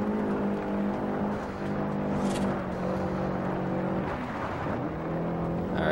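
A rally car engine in Forza Horizon roars continuously, its pitch stepping and shifting as the driver downshifts, loud and close throughout.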